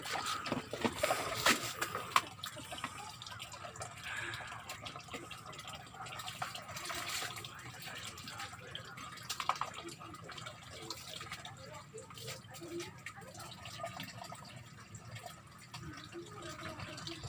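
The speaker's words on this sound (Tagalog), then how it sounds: "Paspas kayo mga hugas guys." Dishes being washed under running water, with faint splashing, dripping and clinking in a quiet room while people chat over it.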